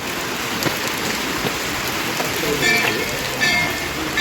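Heavy rain pours down during a monsoon jungle trek, a dense loud hiss of drops on surfaces filling the scene continuously with faint voices beneath it.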